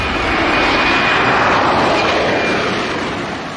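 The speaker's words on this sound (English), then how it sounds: "The C-390 Millennium is a multi-mission transport aircraft" An Embraer C-390 Millennium military multi-mission transport and tanker aircraft, a loud, steady broadband engine roar that holds throughout and fades slightly at the end, with no talk.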